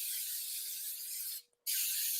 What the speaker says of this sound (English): which I'm going to spray with a little bit of coconut oil spray